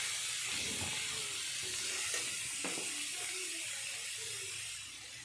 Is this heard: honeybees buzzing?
no